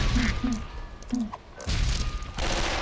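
An explosion in the Lego Batman video game. Sharp blasts and crashing impacts land in quick bursts, loud and close, with brief gaps between them.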